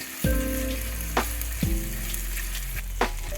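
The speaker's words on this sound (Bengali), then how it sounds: "রসুন আর আদাটাকে আমি ফোড়নের সাথে খুব ভালোভাবে মিক্স করে ভেজে নিব" Ginger and garlic paste fries with whole spice tempering in hot oil for a sesame fish dish, a close crackling sizzle broken by three sharp stirring scrapes.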